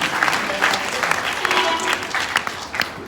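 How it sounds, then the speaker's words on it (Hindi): Loud crowd applause for a dancer at a devotional Bhagavat katha gathering, dense clapping with sharp individual claps standing out and faint voices underneath. "तो एक बार जोरदार तालियां हमारी इस भैया के लिए।"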